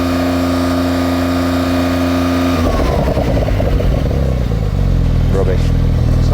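A Porsche 911 Sport Classic, stationary, runs a steady idle hum before its engine is floored against a 3,500 RPM soft limiter, leaving a loud, flat, buzzing rev that stays held rather than climbing.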